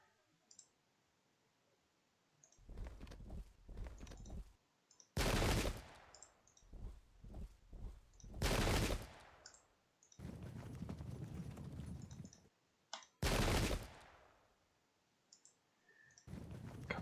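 Musket volleys from massed English Civil War infantry in a Pike and Shot strategy game: loud, broadband crashing bursts of rippling gunfire repeat several times, separated by quieter crackle and scattered clicking shots.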